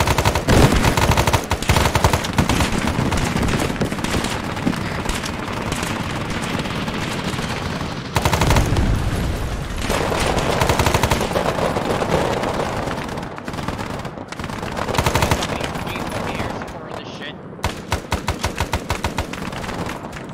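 Sustained gunfire in the ARMA 3 S.O.G. Prairie Fire jungle setting, loud dense bursts of automatic weapons and rapid shots with brief pauses, continuing almost the whole time with heavy reports throughout.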